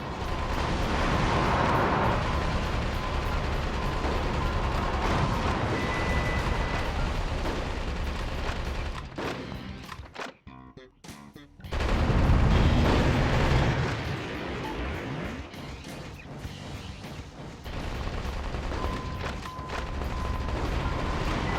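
Shotgun fire and explosions from the Metal Wolf Chaos XD video game come as a dense, loud stream of booming blasts and gunfire. They drop out briefly near the middle, then return heavy with low rumbling impacts.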